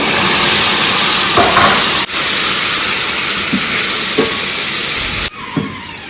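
Blended pepper poured into a hot pot for Nigerian moi moi sauce, giving a loud, steady sizzling hiss that runs throughout with a few brief clinks and a short dip near the end.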